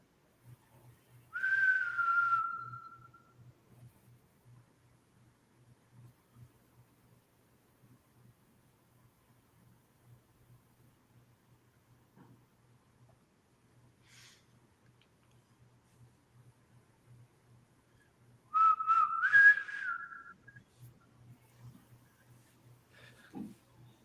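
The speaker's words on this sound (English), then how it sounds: "I just heard whistling" Two short whistled notes in a quiet, reportedly haunted college hall, one near the start and one near the end, with a faint low steady hum and occasional ticks between them.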